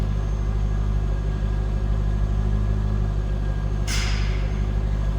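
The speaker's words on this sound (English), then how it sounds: "Good sounding Corvette." A 1999 Chevrolet Corvette convertible idles in a steady, even low rumble with a smooth, unchanging exhaust note, close and alone, and a brief faint hiss near the end.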